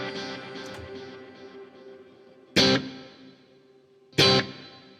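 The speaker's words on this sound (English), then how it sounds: "we're going from a Rich Hall reverb to this one, which is a big theater" Electric guitar played through a wet Headrush rig with a big theater reverb, sustained chords ringing into a long wash, punctuated by two loud, sharp strums that bloom and decay.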